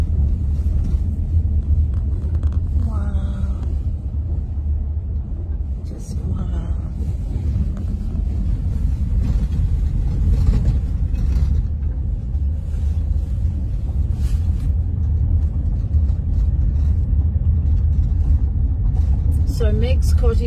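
A car on a farm property drives toward a shearing shed, giving a steady, loud low rumble with buffeting wind noise throughout, while muffled voices come and go over it.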